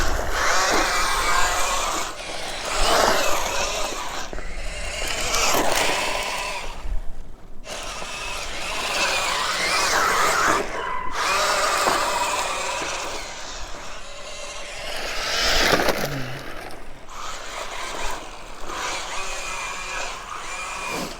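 An ARRMA Infraction 3S RC car on bald tires drifts around a parking lot, its electric motor whining and surging continuously with scrubbing tire noise and a few brief dips.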